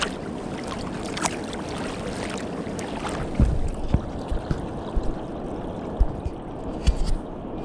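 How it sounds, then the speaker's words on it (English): Water pouring over the Osage River lock and dam, a steady broadband rush heard from a short way off, with a few louder knocks and thumps near the recorder. "That noise you hear is the water coming over the dam."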